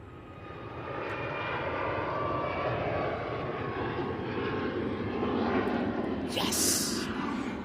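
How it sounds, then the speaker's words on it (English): A Ryanair airliner takes off at Manchester Airport, a broad, steady engine roar building over the first second and holding loud and sustained, with a brief hiss near the end. "Absolutely a beautiful, elegant takeoff there by the Ryanair."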